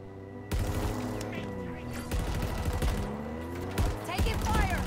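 Rapid bursts of gunfire from a Halo Infinite firefight ring out loud and continuous, with repeated shots layered over a steady battle rumble.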